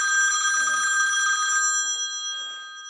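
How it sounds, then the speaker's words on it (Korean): A telephone rings with an incoming call, a bright steady electronic trill that sounds clearly and loudly for about a second and a half, then fades out with a faint trace of talk behind it. "전화가 왔네요."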